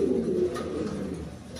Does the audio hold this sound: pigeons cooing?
yes